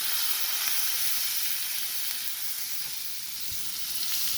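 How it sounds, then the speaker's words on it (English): Garlic scapes sauté in a pan with a steady, dense sizzle and hiss that holds at an even level throughout, close up, with no talking. "let them saute until tender. As it's sauteing"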